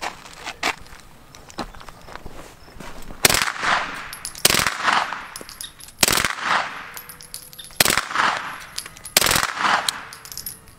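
A brand-new suppressed 9mm gun with a folding stock fires in several short bursts of sharp muffled reports, spaced a second or so apart, fairly close against quiet outdoor background.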